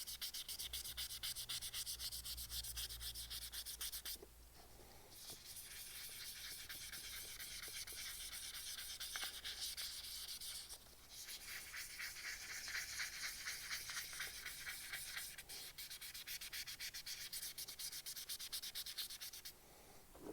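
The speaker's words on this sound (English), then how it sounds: "And a little bit of 600." A turned resin Easter egg is sanded with 600 grit sandpaper: a steady, close, continuous rasping scrub that runs for about twenty seconds, broken by a few brief pauses, with no talking.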